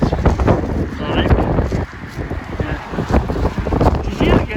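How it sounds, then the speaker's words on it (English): Strong wind roars and buffets across the bridge deck of the P&O cruise ship Iona, loud gusty rumbling against the microphone with brief lulls, and a voice is heard speaking through it. "Really, really windy, really blowing."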